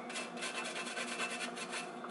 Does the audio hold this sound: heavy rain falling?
no